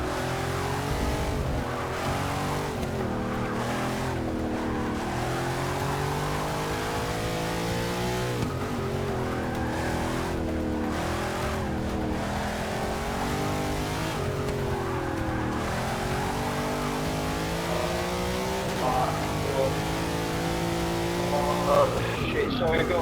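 Race cars lapping a track in the video game Forza Motorsport 6, a pack of engines droning and revving up and down with occasional tire squeal, close and continuous throughout.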